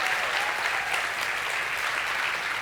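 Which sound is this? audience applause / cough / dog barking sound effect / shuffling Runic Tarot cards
audience applause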